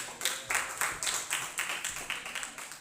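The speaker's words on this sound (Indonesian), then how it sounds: "Tepuk tangan dong buat Habis." Junior high school students at a leadership training camp clap for a classmate, a loud, close round of rhythmic hand claps in quick bursts that keeps a steady beat for a few seconds.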